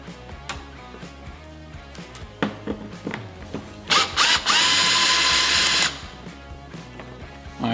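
A power drill bores into a Harley-Davidson Street Glide Ultra fairing, with a few short clicks and taps before one steady, loud whirring burst of about two seconds, close by.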